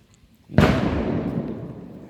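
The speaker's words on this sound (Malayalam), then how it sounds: "ഒരു പടക്കം എന്തുകൊണ്ട് പൊട്ടിയത്" A single sharp firecracker bang bursts out beside a BS6 bus, then a long rumbling decay fades over the next second and a half, fairly loud with no talk.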